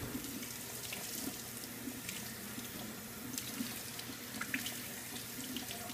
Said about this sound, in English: you're going to run it cool water over it to make sure any residual dye rinses